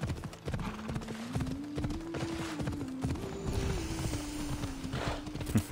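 Rhythmic clip-clop of horse hooves at a steady trot in the video game Assassin's Creed Odyssey, close and clear, with a rising tonal hum and occasional whinny-like tones underneath.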